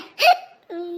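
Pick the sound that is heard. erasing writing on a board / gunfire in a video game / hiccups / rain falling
hiccups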